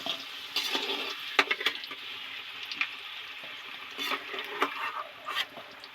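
Cauliflower florets frying in hot oil in a wok, with a steady soft sizzle broken by sharp clinks and scrapes of stirring throughout, close and fairly quiet.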